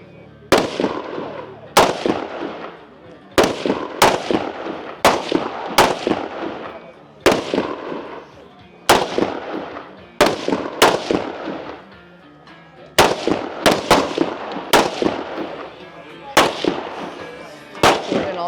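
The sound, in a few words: biathlon rifle shots at the firing line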